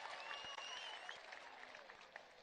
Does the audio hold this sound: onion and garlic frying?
no